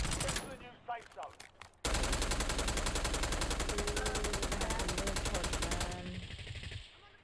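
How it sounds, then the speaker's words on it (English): Gunfire in the Warzone battle royale game: a few scattered shots and talk give way to a loud, sustained automatic burst lasting several seconds, which then fades to quieter ambience. "Fuck, I'm being shot."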